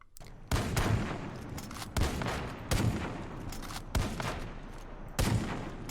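Gunfire in the video game Far Cry 5, a series of sharp, loud shots spaced about a second apart, each with a booming tail over a steady rumbling background.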